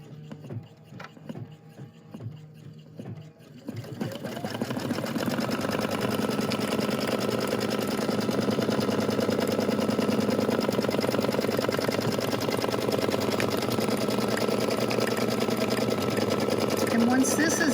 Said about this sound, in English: And we're going to stitch it again.